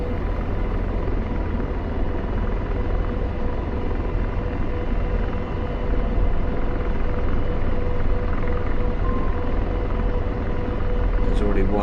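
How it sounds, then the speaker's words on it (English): Apache helicopter in the DCS flight game, a steady heavy rotor and turbine drone that runs loud and unbroken throughout, with no break in the rumbling. "Is that Apache or is that a Chinook? It's an Apache."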